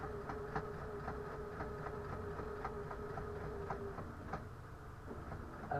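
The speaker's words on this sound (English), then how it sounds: "I need to turn my sewing machine and I want to sew off that edge" A sewing machine stitching fabric runs with a fast, regular mechanical clatter, steady and close, without any voices.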